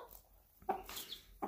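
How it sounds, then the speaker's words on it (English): Indoor chickens picking through dandelion greens and clover give a few short, soft clucks spaced across a second and a half, faint and close by. "we heard a variety of really lovely noises from them"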